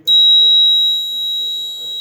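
Fire alarm system with 7002T alarms sounding inside a fire station: a loud, steady, high-pitched electronic tone held continuously, with a brief voice near the end.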